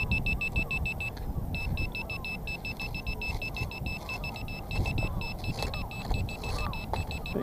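Repeated electronic beeps from a metal detector picking up a target on a UK beach, a steady pulsing tone over constant outdoor wind and surf noise.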